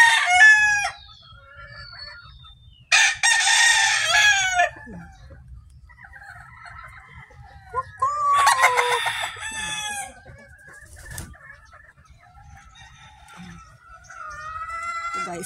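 Chickens on a farm cluck and crow in bursts while laying eggs, with sharp loud calls rising over a steady low murmur of nearby fowl and fainter clucks in between.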